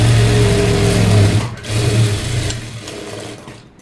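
A sewing machine stitches a blouse seam with a loud, fast, even whir up close. It pauses briefly, runs again, then slows and fades to a stop.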